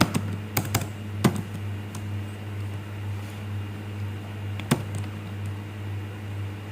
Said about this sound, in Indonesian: Kita sekarang ketikkan perintah untuk LCD-nya.